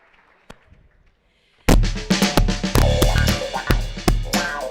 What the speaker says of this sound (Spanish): Un aplauso para Margarita.